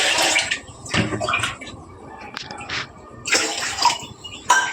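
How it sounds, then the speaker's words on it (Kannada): Water poured from cups into a pot of rice for paneer pulao, a steady splashing stream running for several seconds with brief pauses between pours, close and fairly loud, no talk. "3 ಲೋಟ ಅಕ್ಕಿ ಹಾಕೊಂಡಿದ್ದೀನಿ, ಹಾಗಾಗಿ ನಾನು 6 ಲೋಟ ನೀರು ಹಾಕೋತಾ ಇದ್ದೀನಿ."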